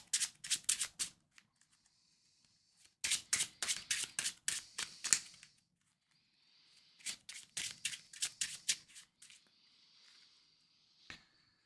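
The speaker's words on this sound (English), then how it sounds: "Shuffle the encounter deck." A deck of Marvel Champions encounter cards is shuffled up close in three rapid riffle bursts separated by pauses, with a soft final tap as the deck settles.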